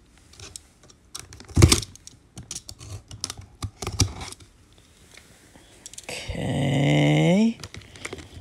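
A big cardboard box cut open at close range. A run of sharp, irregular taps and scrapes is followed by a louder, sustained tearing screech that rises in pitch before stopping abruptly.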